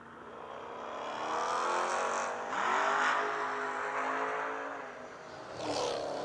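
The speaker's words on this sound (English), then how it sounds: "Brian going to take that Camaro down there and come ripping back around her" A Camaro drag car tears down the strip at the Yellow Bullet Nationals, its engine roar rising and falling across the run with a renewed surge near the end, heard alone and fairly close.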